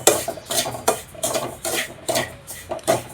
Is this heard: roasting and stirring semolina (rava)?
yes